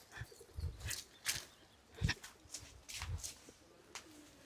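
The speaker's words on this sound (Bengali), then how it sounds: "কবুতরের ডাক।" Pigeons coo softly at a rural Bangladeshi village home with a garden and hammock. The calls are faint and distant, set among scattered rustles and knocks in a quiet outdoor space.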